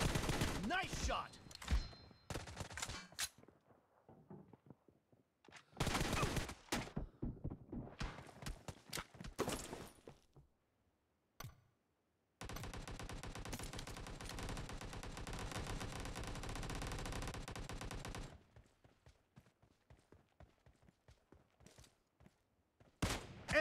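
Rapid gunfire bursts and single shots from a shooter video game, loud and close, coming in clustered volleys, with one long sustained stretch of continuous automatic fire midway through.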